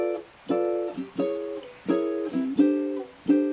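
Ukulele chords strummed in a steady rhythm, six or so bright strums with short ringing decays, moderately quiet and close, with no talking.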